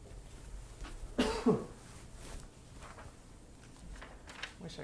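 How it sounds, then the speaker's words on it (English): A single short cough from a lecturer in a quiet room, faint and brief against low background hum. "Wish I could get this little cough to go away."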